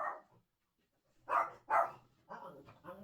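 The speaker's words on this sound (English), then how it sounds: "My dog's barking." A dog barks several times nearby, sharp separate woofs in a loose sequence with quiet gaps between, fairly close and moderately loud.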